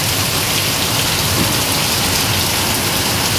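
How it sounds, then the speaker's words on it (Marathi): Heavy rain pouring onto a road in Degloor town, a dense, steady hiss of drops hitting water-covered pavement, loud and unbroken with no voices. "खूप मोठा आणि जोराचा पाऊस या ठिकाणी पडतो आहे"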